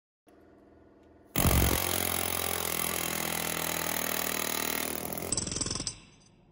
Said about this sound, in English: I'm going to go around this with the air chisel and then pop out one side at a time